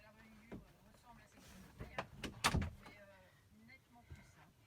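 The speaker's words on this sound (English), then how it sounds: "let me just shut the door" A door being shut in a home craft room, heard as a few muffled knocks and a thump mid-clip, with faint movement before and after.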